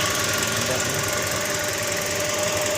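Toyota Vios engine running just after being coaxed to start, a loud, steady, rough idle with a knocking rattle throughout and no talk.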